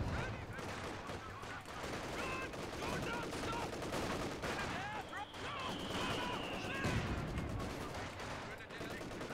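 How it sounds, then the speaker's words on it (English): Mortar and gunfire crash through a World War II battlefield in Company of Heroes, with repeated sharp bursts and booms over steady combat noise, and a voice talking beneath. "that was a damn good mortar on his part"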